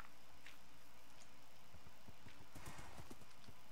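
Horses in Minecraft clip-clopping, a run of quick hoof steps that starts faint and grows louder and denser toward the end, with no talk over it.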